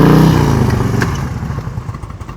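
Motorcycle engine idling and chugging close by at slow speed during an advanced low-speed riding practice session in Washington, loud at first and easing off into a low, uneven putter.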